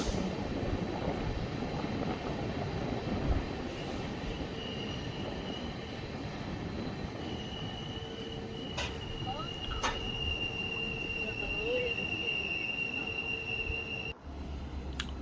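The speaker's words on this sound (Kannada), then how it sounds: "ನಮ್ಮ ಟ್ರೈನ್ ಈಗ ಎಂಟ್ರಿ ಆಗ್ತಿದೆ ಚಿಕ್ಕಜಾಜೂರು ಜಂಕ್ಷನ್ ಪ್ಲ್ಯಾಟ್ಫಾರ್ಮ್ ನಂಬರ್ 2ಕ್ಕೆ" A train pulls into platform 2 at Chikkajajur Junction with a steady, loud rumble of wheels and carriages. Thin, sustained wheel squeals rise over it, and a sharp clank sounds near the end.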